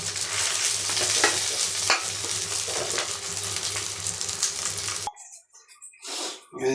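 Fish frying slowly in a pan of oil in a home kitchen, a loud continuous sizzle with occasional stirring scrapes that cuts off abruptly, leaving quiet gaps and a brief returning hiss.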